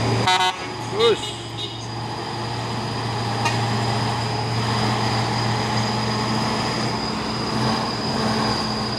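A loud, sustained telolet horn on a truck blares in a steady tone, with engine rumble and traffic noise underneath.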